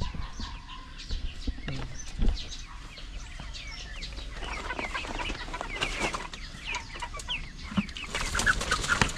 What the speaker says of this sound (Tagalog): Ito yung mga manok na pang-ulam